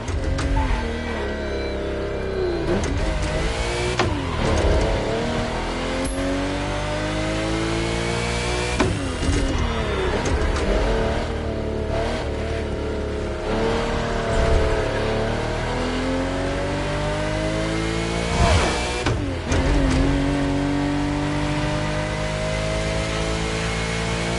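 Hoonicorn engine in The Crew Motorfest revving hard and continuously, rising and falling through gear changes with loud, sustained roaring pitch sweeps throughout.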